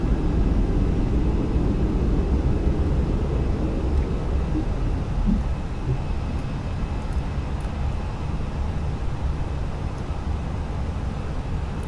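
Airbus A320 jet engines in the Fenix A320 flight simulator give a steady, broad roar in cruise that stays even and fairly loud throughout, with no talking over it.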